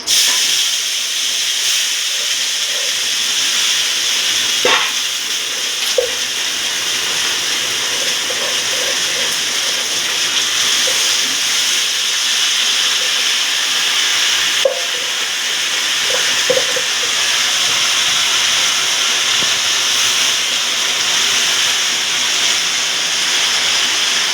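Rice fries in ghee over medium heat for pulao, a continuous hissing sizzle throughout, broken by a few light clicks of stirring.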